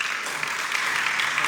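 A church congregation claps together during a service, a brief, even burst of moderately loud applause without speech on top.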